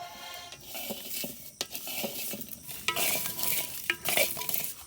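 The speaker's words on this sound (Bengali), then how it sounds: "কাঁঠালের দানা আর পেঁয়াজ আর রসুন ভাইজা নিতেছে" Jackfruit seeds, onion and garlic fry in a pan, with a spatula stirring and scraping against metal in uneven bursts over a continuous close sizzle. No one speaks.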